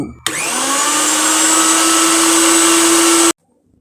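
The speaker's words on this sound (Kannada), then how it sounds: "ಸುಲಭವಾಗಿ ಮಿಕ್ಸಿ ಕ್ಲೀನ್ ಮಾಡಬಹುದು" A mixer grinder starts abruptly with a loud, steady motorized whine, runs evenly for about three seconds with a high-pitched tone, then cuts off sharply into silence.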